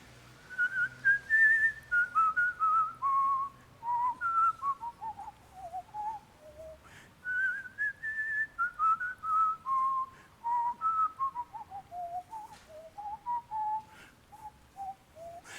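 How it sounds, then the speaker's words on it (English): A single person whistles a slow, melodic tune in clear, pure tones, phrases rising and falling with short breaths between them, close and fairly quiet. "it was a slightly nervous whistle"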